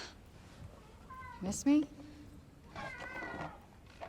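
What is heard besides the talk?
cat meowing in the video game Forspoken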